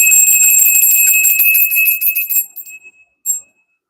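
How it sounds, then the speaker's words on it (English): A solar plexus bell rung once during a tarot energy session, giving a bright, sustained ringing tone that fades over about two and a half seconds, followed by a brief faint second tap. No one speaks. "we're going to call in the energy to the solar plexus bell."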